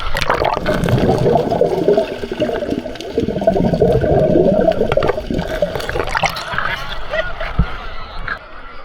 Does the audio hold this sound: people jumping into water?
yes